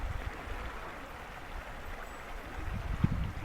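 Flooded mountain creek rushing over rocks, a steady, fairly quiet wash of flowing water heard from nearby, with no talk.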